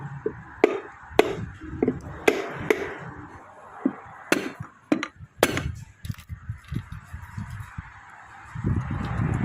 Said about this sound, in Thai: วิธีการเคาะอย่าเคาะแรงนะคะ ใช้เป็นค้อนยางนะคะ